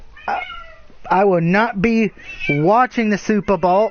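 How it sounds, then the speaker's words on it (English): A house cat meows repeatedly and loudly in drawn-out, wavering cries, mixed in with a man's close-up speech. "My cat won't shut up."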